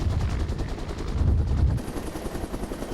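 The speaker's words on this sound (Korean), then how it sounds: "드디어 상공을 향해 헬기가 떠오른다." Military helicopter lifting off with a marine high-altitude infiltration team aboard: rapid rotor thumping, loud and near, pulses steadily and shifts tone partway through as the aircraft climbs.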